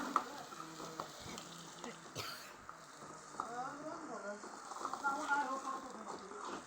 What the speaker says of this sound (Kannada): ಅದನ್ನ ಹಾಕ್ಕೊಂಡು ಫ್ರೈ ಮಾಡ್ಕೊಳ್ಳಿ. ಇದು ಹಸಿ ವಾಸನೆ ಹೋಗೋವರೆಗೂ ಫ್ರೈ ಮಾಡ್ಕೋಬೇಕು ಇದನ್ನ.